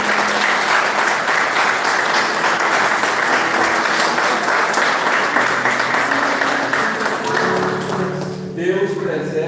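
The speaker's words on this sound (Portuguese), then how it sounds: "Eu quero dar uma salva de palmas a Jesus pela vida desses dois pastores" A church congregation gives loud, sustained applause during a worship service, dense clapping throughout that fades near the end as a voice and some tones come through.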